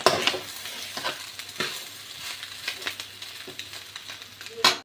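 Leftover rice and spices are stirred in a hot pan for egg rice. A spatula scrapes and knocks repeatedly against the metal over a continuous sizzle, close and fairly loud.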